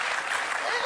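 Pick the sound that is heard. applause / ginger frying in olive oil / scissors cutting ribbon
applause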